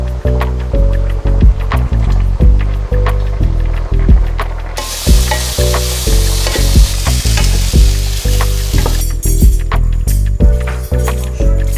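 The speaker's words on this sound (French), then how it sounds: "maintenant je vais aller faire cuire les boulettes, que les lentilles et que les carottes cuisent aussi" Meatballs, lentils and carrots cook together in a sauté pan, giving a steady close sizzle broken by rhythmic, repeated stirring knocks and scrapes.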